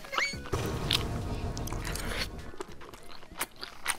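Bacon and rosé tteokbokki are eaten up close, with soft wet chewing and a few crunchy bites and scrapes repeating irregularly at moderate volume.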